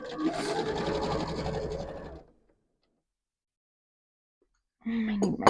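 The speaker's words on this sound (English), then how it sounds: "And now we can start sewing." Sewing machine stitching a wool dog coat, a steady mechanical whirr lasting about two seconds, then silence, then a short restart of machine noise with a brief voice.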